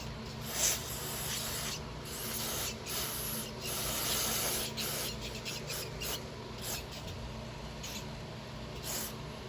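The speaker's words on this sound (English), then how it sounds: "Let's have some spray in here." Steady hissing aerosol spray, broken into several bursts of varying length with brief pauses, close and fairly loud, cleaning the carburetor of a 2006 MTD Yardman Powermore engine.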